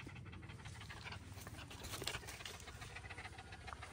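A dog pants rapidly and steadily at close range, a continuous breathy huffing rhythm under faint room noise.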